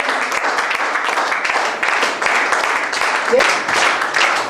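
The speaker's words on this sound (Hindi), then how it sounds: "तो एक जोरदार ताली से हम स्वागत करना चाहेंगे" A crowd at a public gathering gives loud, sustained applause to welcome a guest to the stage, dense clapping that carries on steadily, with voices mixed in beneath it.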